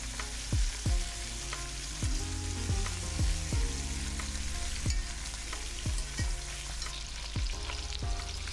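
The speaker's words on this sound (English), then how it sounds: "We just trying to brown every side." Beef short ribs brown in a Dutch oven, giving a steady loud sizzle with repeated low thumps as pieces are turned and set down every second or so. The sound is close, with no talking.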